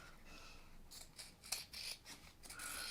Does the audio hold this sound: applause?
no